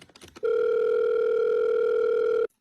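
A steady, loud electronic telephone tone holds unbroken for about two seconds after a brief patch of clatter, then cuts off abruptly, sounding more like a continuous dial tone than a bell.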